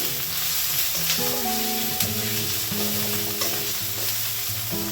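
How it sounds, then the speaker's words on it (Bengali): Masala is stirred in a pan on the stove, with a continuous loud frying sizzle and repeated scraping strokes of a spatula against the pan. "এবার একটু নাড়িয়ে নেব, কারণ মিষ্টাটা পোড়া লাগছে, একটু নাড়িয়ে নিচ্ছি।"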